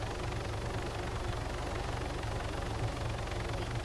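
Loud, constant video game helicopter rotor noise with a fast low thumping pulse, filling the whole moment without pause.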